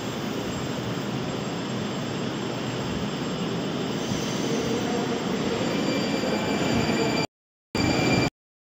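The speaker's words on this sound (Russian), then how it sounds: "Вот уехал поезд" A Moscow metro train pulls out of Savyolovskaya station on the Big Circle line: a loud, close, steady rumble of wheels and carriages for about seven seconds, then the sound cuts off abruptly with short gaps.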